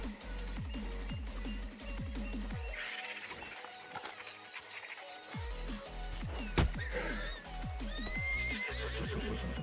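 Horse in the video game Red Dead Redemption, neighing and whinnying loudly several times over a rhythmic clatter of hooves, with a brief pause in the middle and no talking.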